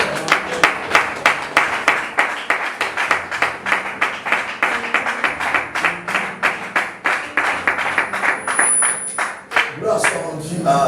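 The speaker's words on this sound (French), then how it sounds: "On acclame le Seigneur." A church congregation claps in a steady, rhythmic beat for several seconds while acclaiming the Lord, with voices mixed in and the clapping ending near the close.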